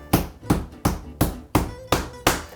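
Top round beef being pounded flat, seven heavy, evenly spaced thumps about every third of a second, close and loud with no voices.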